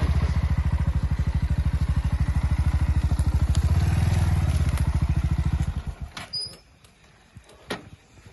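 A motorcycle engine runs loud and close with a steady, rapid throb for about six seconds, then cuts out, leaving near-quiet with a few faint knocks.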